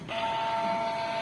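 A Canon G2010 inkjet printer running after a reset, giving a steady mechanical whir with a faint tonal hum, close and continuous.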